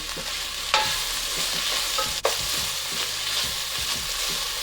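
Carrots and other vegetables for beef bone broth sizzle steadily in a pot, with a few distinct knocks and scrapes as they are stirred, no voices.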